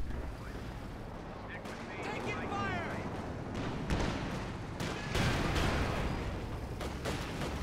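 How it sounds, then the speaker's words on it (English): Bazooka rockets strike a vehicle amid gunfire in a Company of Heroes 2 two-versus-two match, with dense crackling shots and dull impact bursts throughout, layered under busy game noise and a voice talking. "Some bazookas connecting with it there."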